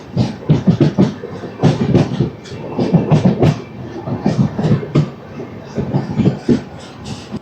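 Wheels of the Repalle Express, train 17645 from Secunderabad to Repalle, thump in uneven bursts over rail joints near Sangam Jagarlamudi station, a close, continuous rolling clatter with no voices.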